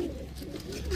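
A high flyer pigeon, a male of the same breed as a nesting female, coos in a steady low murmur close by, continuous through the second with no talk over it.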